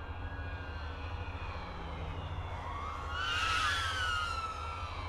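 An FMS Pilatus PC-21 RC model airplane flies by with a steady electric whine, the pitch rising and then sliding down as it passes close and loud.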